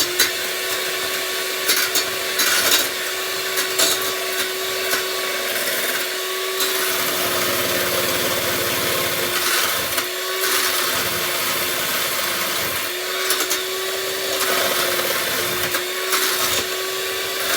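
A mixer whisks eggs and sugar for homemade vanilla ice cream, giving a continuous, fairly loud motor whir. Its pitch wavers slightly as the beaters move through the mixture.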